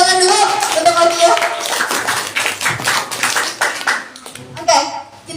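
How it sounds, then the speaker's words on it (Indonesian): Audience at a children's talk show for National Children's Day applauds a young guest: steady clapping that fades toward the end, with voices talking over it. "tepuk tangan dulu untuk Afia"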